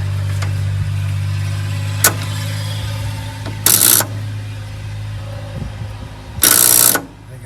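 A 1972 Ford F100 engine is cranked on a jump, with a steady close mechanical drone and two loud, harsh bursts of starter grinding, each about half a second long, that fail to catch.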